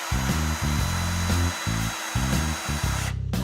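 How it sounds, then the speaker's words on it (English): A power drill driving screws, its motor whirring in repeated bursts that start, stop and change pitch, loud and close, with short pauses between runs. "I think this was Tom's first time working with a drill and some screws."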